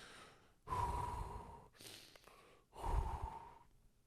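Heavy breathing from a man in the Black Mirror episode Smithereens: two long, loud exhalations with short gaps between, close and raw, with no talking.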